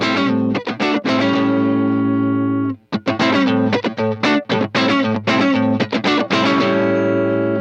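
Distorted electric guitar played through a Tsakalis Mothership tube overdrive preamp on channel 1 with gain B, sustained saturated chords and chugging strums with a brief pause midway, loud and alone.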